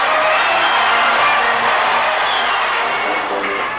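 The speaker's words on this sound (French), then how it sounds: "Puis ils retournent à Garmisch sous les acclamations de la population." A crowd in Garmisch cheering returning Werdenfels Freikorps soldiers, a dense, steady roar of many voices at full loudness that eases slightly toward the end.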